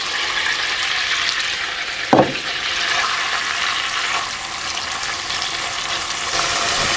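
Beef pieces fry in a hot pan with a steady, continuous sizzle, and a single short clatter or clunk cuts in near the middle.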